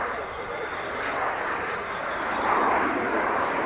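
A fixed-wing aircraft roars past at the Farnborough Air Show, a loud, steady broadband engine rumble that swells slightly toward the end, with a commentator talking over it.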